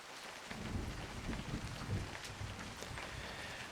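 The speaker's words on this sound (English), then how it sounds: "followed by the thunderous cracking of lightning just a moment later" Thunder cracks and rumbles through a steady wash of rain in the woods, all heard quietly, as if from a distance.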